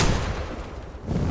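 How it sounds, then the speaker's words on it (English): Rapid, dense bursts of an anti-air cannon firing in the game Teardown form a continuous booming rattle, loud and close throughout with a brief dip near the end. "Oh, he is shooting. Well, I shoot back."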